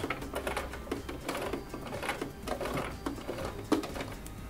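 A sewing machine stitching the edge of fabric, close, with rapid mechanical clatter in short bursts and brief pauses, no speech.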